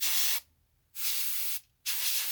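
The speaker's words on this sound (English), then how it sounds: "So we just need to put out the color out of the airbrush because the rest I don't need." An airbrush sprays paint while a Red Screamer of Tzeentch miniature is being painted, giving three close, steady hissing bursts with brief silent gaps between them.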